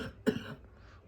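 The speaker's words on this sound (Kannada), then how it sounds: "ಕೆಮ್ಮು" An unwell grandmother coughs once, a single short, close, harsh cough followed by a softer breathy trailing sound indoors.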